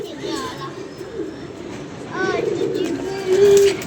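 A pigeon coos nearby in a few soft gurgling phrases, mixed with children's voices and chatter in the background.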